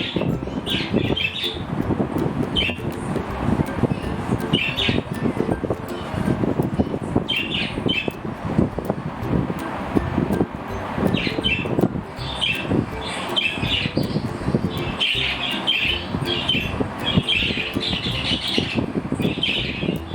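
Pet birds squawk and chirp constantly through twenty seconds, reacting to a video being played, with shrill calls bursting out in repeated clusters over a busy, rustling indoor background. There is no speech.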